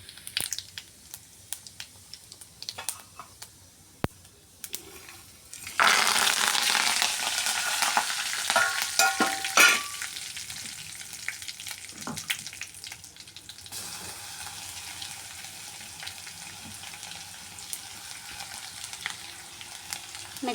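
Cumin seeds hit hot oil for a tempering in a kitchen making ganga vayila greens and raw mango dal: a loud broadband sizzle bursts in midway and crackles steadily, then settles into a softer continuing fry.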